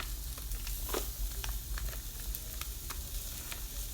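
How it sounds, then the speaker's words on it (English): Sausages browning in a skillet on a stovetop: a soft, continuous sizzle and crackle of frying fat with scattered pops, fairly quiet and close. "I'm just gonna put some of these sausages in the skillet and let them brown just a little"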